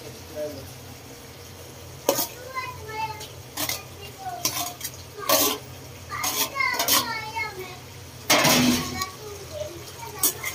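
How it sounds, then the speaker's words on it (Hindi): A spoon scrapes and clinks in a pan as chicken gizzard, onion and tomato are stirred together, irregular metallic knocks with a steady cooking hiss beneath and a voice talking in the background. "अभी इसको मिक्स करता हूँ, टमाटर भी इसमें अच्छे तरीके से पकेगा।"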